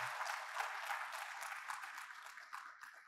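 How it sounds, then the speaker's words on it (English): Audience at a cashew convention session in Bengaluru claps steadily, a dense, even wash of applause from a crowd heard at a moderate distance. "Let's have a good applause."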